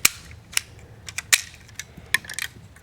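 A custom Lego Space Police build fires its fast-firing missile mechanism with a quick, irregular series of sharp plastic clicks and snaps, close and fairly quiet, with no talking.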